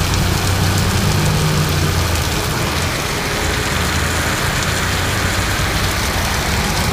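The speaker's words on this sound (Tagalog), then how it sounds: "Lakas ng baha." Strong floodwater rushes in a dense, loud, continuous wash with no breaks, with a faint low rumble that may be an engine underneath.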